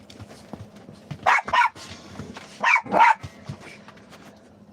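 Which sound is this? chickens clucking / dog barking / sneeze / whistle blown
dog barking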